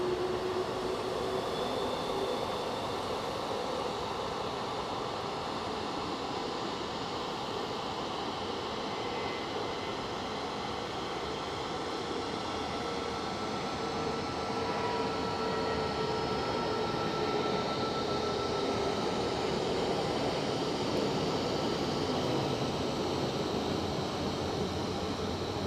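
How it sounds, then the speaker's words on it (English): CRJ regional jet departing an airport on a rainy day, a steady distant roar with a faint rising whine, continuous and unbroken. "And we have our little CRJ departing."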